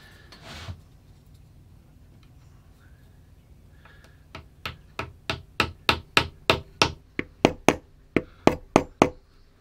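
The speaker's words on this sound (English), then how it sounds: "I'm going to very gently tap it in with a hammer" A hammer gently tapping a threaded insert into a guitar body during repair of a loose floating bridge stud: about eighteen light, evenly spaced taps that start after a quiet stretch and continue steadily, close and clear.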